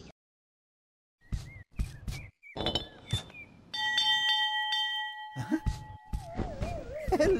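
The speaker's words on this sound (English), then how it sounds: "I think I can call Owl with this bell." A bell in a Winnie the Pooh story, clinking chimes and a ringing tone that sustains and wavers, mixed with short clattering taps, rustling and other effects amid brief pauses.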